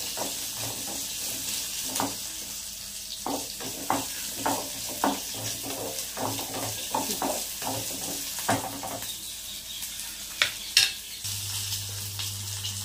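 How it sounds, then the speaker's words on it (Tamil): Four dry red chillies and garlic sauté in oil in a pan for mint chutney. A steady low sizzle runs under repeated stirring scrapes and occasional light clinks of a utensil, close and moderately loud, and nobody speaks. "4 வரமிளகாய் போட்டுக்கலாம். நல்லா வதக்கிக்கலாம்."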